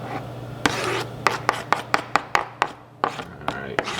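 A knife chops 14 garlic cloves and a large onion on a cutting board, sharp knocks coming in an irregular run of about a dozen strokes, close and fairly loud, with a steady low hum beneath and no talking.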